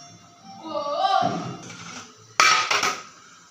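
Steamed Kanchipuram idli spiced with pepper, cumin and dry ginger powder tipped out of its vessel onto a plate: a voice talks, then a sudden close metallic clatter and a few knocks that die away.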